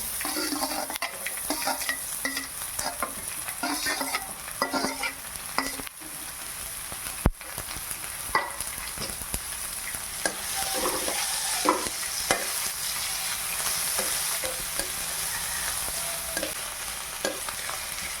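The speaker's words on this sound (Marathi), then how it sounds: "नंतर हा बारीक चिरलेला कांदा मी टाकून देते।" Finely chopped onion frying in oil and stirred, for a Marathi cowpea-leaf vegetable dish: a steady close sizzle with scraping spoon strokes against the pan throughout.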